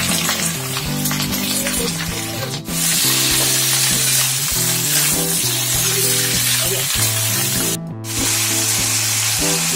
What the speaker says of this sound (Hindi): पहले मैं आलू भूजती हूँ, जिसको बोलते हैं भुजिया